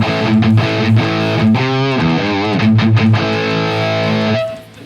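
Distorted electric guitar played through a Bugera G5 Infinium amp into a Marshall 1960 Vintage cabinet, morph control set to center, Schecter Banshee 6 guitar; loud sustained chords with a vibrato-bent passage, ringing alone until a cut at the end.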